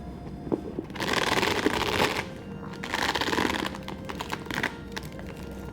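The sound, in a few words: chain of a Chanel double flap bag jingling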